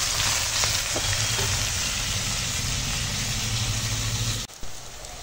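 Onions fry in hot oil in a wok over a strongly blazing stove fire, a loud, dense, continuous sizzle heard close up that dips briefly near the end.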